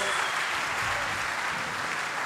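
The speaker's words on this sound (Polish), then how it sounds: "Wielkie brawa dla pana Krzysztofa!" Audience applause at a university fine-arts hall during a festival talk, a steady dense clapping that fills the whole stretch at even loudness with no voices over it.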